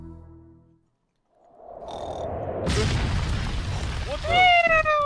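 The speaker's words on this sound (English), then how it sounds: "Explosion." An explosion in the Roblox Piggy game bursts out as a broad, loud boom after a brief silence, followed by sustained rumbling and rising synthetic whistling tones.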